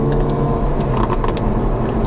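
A Lamborghini sports car drives along a road with a steady loud engine drone, and a series of sharp exhaust pops and crackles bursts out over it in quick succession.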